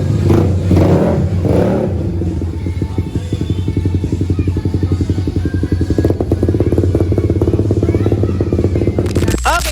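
A Suzuki Satria FU motorcycle, back from a test ride after a major service, rolls in close with a loud revving engine that settles into a rapid steady putter before cutting off at the end.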